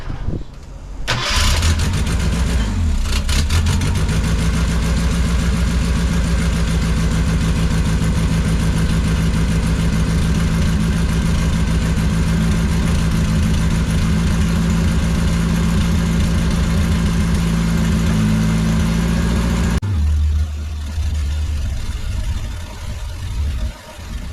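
A 1984 Ford Mustang SVO turbo engine cranks and fires, then runs at a loud, steady idle close by for about eighteen seconds before cutting out.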